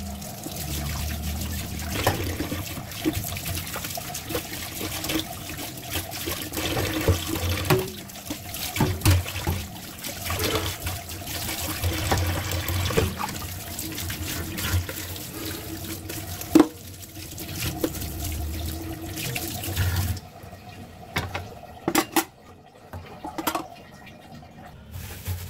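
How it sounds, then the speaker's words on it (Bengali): Dishes being washed under a running tap at a home kitchen sink, with a steady trickle and splash of water broken by occasional clinks, then sparser drips and knocks near the end, with no talk. "আরও কিছু থালাবাটি ময়লা হয়েছে, তো এগুলো একটু সাথে সাথে যদিও আরও কিছু ধোয়া হয়েছে, আর এগুলো এখন ধুয়ে নিচ্ছি।"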